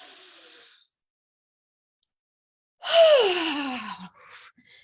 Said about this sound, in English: So we take a deep breath in.